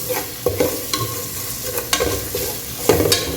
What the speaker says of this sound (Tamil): ஸோ வெங்காயம் நல்லா வதங்கிடுச்சு நண்பா.